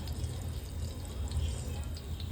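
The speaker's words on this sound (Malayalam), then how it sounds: "മീൻ ഫ്രൈ ചെയ്യാൻ വേണ്ടിയിട്ട് നമ്മളിവിടെ ഒരു മൺചട്ടിയാണ് എടുത്തേക്കുന്നത്. അതിലോട്ട് നമുക്ക് നല്ല വെളിച്ചെണ്ണ ഒഴിക്കാം" Coconut oil being poured into a clay pot for frying fish, a soft steady liquid pour with a low continuous rumble and faint trickle throughout, close by and with no talking.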